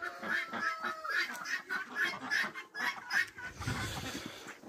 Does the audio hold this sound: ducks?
yes